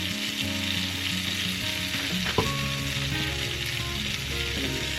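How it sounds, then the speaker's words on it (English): Lemon garlic chicken in a heavy-cream sauce sizzles continuously in a pan while being stirred, with a single sharp utensil knock partway through. A low steady hum from kitchen equipment runs underneath. "just going to give it a stir."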